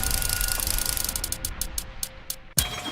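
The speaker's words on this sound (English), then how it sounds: "That's a roulette wheel" A roulette wheel sound effect on a radio show: dense, fast ratcheting clicks that gradually space out as the spin slows, then an abrupt cut into a different noisy sound.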